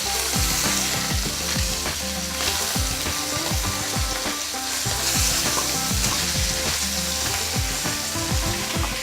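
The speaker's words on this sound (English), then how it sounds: "Don't get afraid of the spluttering, it happens." Fish heads spluttering and sizzling in a hot frying pan, a loud steady crackle with frequent sharp pops and scraping stirs repeating throughout, no voices.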